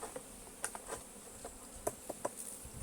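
Honeybees around a hive feeder: faint, close buzzing with scattered brief passes of individual insects over a quiet background.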